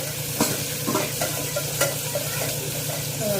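Curry leaves and fresh coriander sauté in hot oil in a pan, a steady close sizzle broken by several sharp crackles and the scrape of stirring, with no voices.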